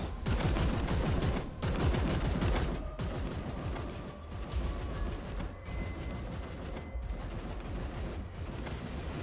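Sustained bursts of video game gunfire in a grimdark sci-fi shooter, dense rapid volleys rattling almost nonstop at steady loudness with brief gaps, no talking over it.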